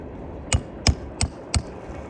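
Four evenly spaced sharp thwacks from a fastener tool shooting fasteners, each a short percussive snap, close and clear with no talk.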